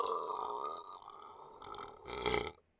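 A long, rough burp, loud and close, rumbling for over two seconds and ending in a stronger final push before cutting to silence.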